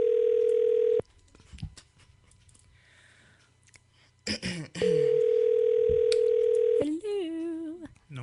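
A phone's ringback tone sounds during an outgoing call on a radio show: two long, steady, loud tones separated by a stretch of quiet clicks and handling noise, then a brief warbling tone.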